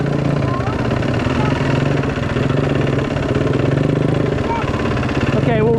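Close, loud dirt bike engine running and revving, holding a rising buzzing pitch before a gear shift near the end, with a steady droning note throughout.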